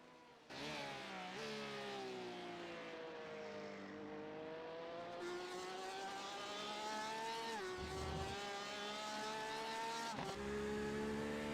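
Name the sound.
Porsche RSR race car engine, from a racing video game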